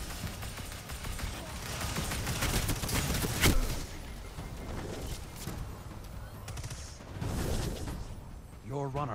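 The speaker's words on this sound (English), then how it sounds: "Your runner is under fire." Gunfire in the Tower Rangers vs Iron Banana video game: rapid bursts of shots and crackling fire over continuous noisy game sound, with one sharp loud crack near the middle and game voices talking throughout.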